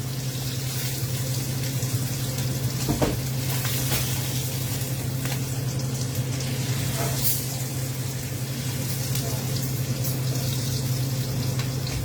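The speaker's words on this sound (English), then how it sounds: "I'm gonna end up searing that side more though." Pork ribs searing in a pan on a stove top make a steady, continuous sizzle with a low background hum, close and even throughout, no voices.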